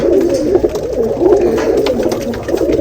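Pigeons coo close by in soft, throaty, overlapping murmurs that roll on without a break for a few seconds, with no talking over them.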